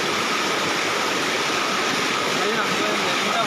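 Flood water rushes in a strong current at night, a loud, unbroken roar of churning water that stays steady the whole time.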